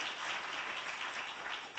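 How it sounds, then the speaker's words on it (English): A lecture audience applauds, a soft, even wash of many hands clapping, heard at a distance and fairly quiet throughout. "that deserves a round of applause."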